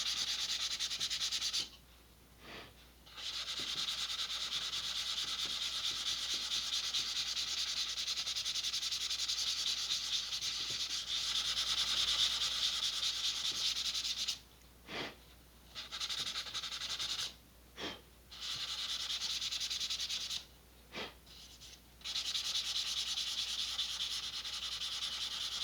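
A vintage Estes Sentinel model rocket is sanded by hand in close, steady rasping strokes, the rubbing running continuously with a few short pauses between passes.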